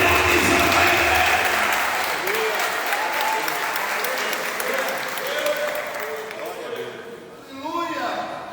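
Church congregation applauding during a Sunday celebration service, dense sustained clapping that fades slightly, with a voice speaking over the applause toward the end.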